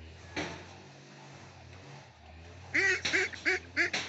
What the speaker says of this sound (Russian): Утки шумят